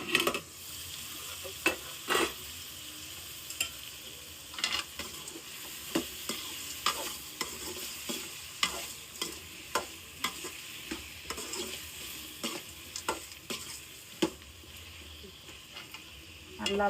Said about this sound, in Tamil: காய் வந்து நல்லா எண்ணெயில் வதக்கணும்